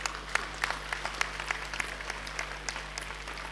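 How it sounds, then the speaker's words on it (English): Audience applause at a Ghana tech expo, a steady patter of many hands clapping at moderate distance with a low steady hum underneath, no voices on top. "Let's give them a round of applause once again."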